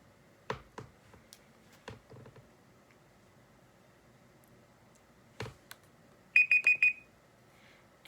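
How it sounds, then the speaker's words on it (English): A classroom timer alarm goes off near the end with a quick burst of four or five shrill electronic beeps, after scattered clicks and taps in a quiet room. "the timer is up"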